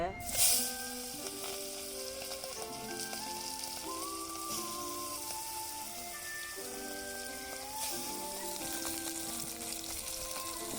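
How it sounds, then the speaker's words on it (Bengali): Bele fish fry in oil in a wok, a soft, constant sizzle that sounds faint and steady beneath a melodic music track. "মাছগুলো ভেজে নেবো, কড়াইতে তেল দিয়ে নেই।"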